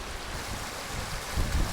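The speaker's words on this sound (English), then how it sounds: "That channel's running into the main river" A channel of water running into a main river near a bothy in the hills, heard as a steady, moderately close rushing flow with wind noise over the microphone.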